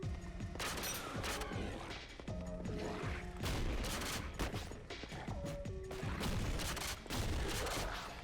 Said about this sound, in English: That's a good shotgun right there.